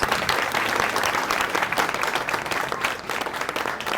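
Loud, sustained applause from a crowd at a Ramleela stage event in Udhampur, honouring the club president, dense clapping filling the hall throughout.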